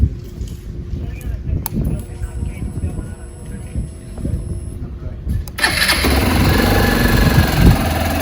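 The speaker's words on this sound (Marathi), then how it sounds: "आता बाईक थोडी कोल स्टार्ट करू" A motorcycle engine cranks and catches partway through a cold start, then settles into a steady, loud idle close by, with quieter background noise before it starts.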